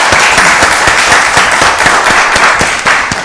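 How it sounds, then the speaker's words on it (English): Loud, sustained applause fills the Rockdale County Board of Commissioners meeting room, many hands clapping at once in a dense, even roar with a few crisp individual claps standing out. "Let's give her another round of applause."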